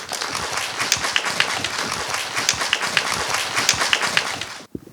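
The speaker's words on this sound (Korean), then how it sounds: "큰 박수 부탁드립니다" At an art symposium on painter Ha Chong-Hyun, the audience claps warmly for a presenter, a busy stream of individual claps with distinct sharp hits that runs for nearly five seconds before cutting off abruptly.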